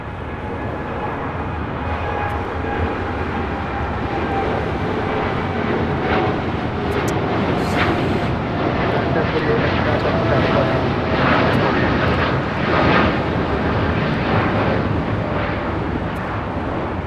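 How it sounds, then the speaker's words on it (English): Continuous heavy jet roar from a United Boeing 787-9 Dreamliner departing LAX for Denver, loud and sustained with slight swells, a voice faintly audible beneath the engine noise. "This is United 1048 taking off to Denver, Colorado on a 787-9 Dreamliner"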